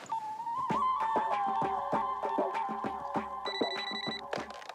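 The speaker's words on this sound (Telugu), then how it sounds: "వందనా, నెక్స్ట్ కాల్ రిసీవ్ చేసుకో" A telephone ringing in an office, a loud electronic ringtone with a steady tonal pattern pulsing in a fast repeating rhythm, close and alone throughout.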